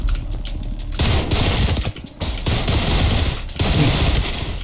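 Rapid gunfire from the shooter video game Trepang2, loud and dense, with sustained automatic bursts broken by a brief gap near the middle before the shooting resumes.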